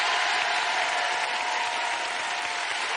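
A French television studio audience breaks into steady, sustained applause, an even wash of clapping from many hands lasting about three seconds, with no voices on top.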